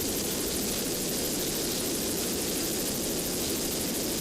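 A steady, loud whirring roar of a helicopter flying over offshore powerboat racing, unbroken and dense throughout.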